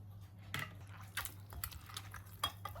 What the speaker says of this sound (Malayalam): ആ ബൗളിലോട്ട് നമ്മളിപ്പോൾ ഒരു നാല് ടൊമാറ്റോ എടുത്തില്ലേ അത് ഇട്ട് കൊടുക്കാം